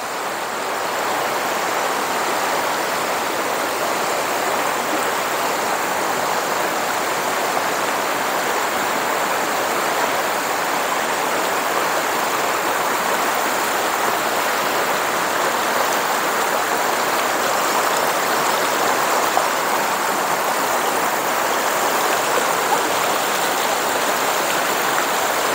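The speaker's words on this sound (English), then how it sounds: "That is the river in Valencia," River in Valencia, Philippines, rushing steadily as a loud, continuous broadband wash of flowing water, close by and unchanging throughout, with no voices over it.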